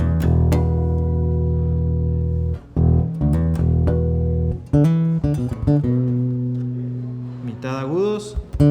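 Acoustic bass guitar with the treble cut all the way down, playing sustained low notes and short plucked phrases, warm and dull, close and alone.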